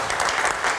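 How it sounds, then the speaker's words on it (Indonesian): A studio audience at a live night-time talk show claps in a dense, continuous burst of applause that lasts under a second. "Beri tepuk tangan dong."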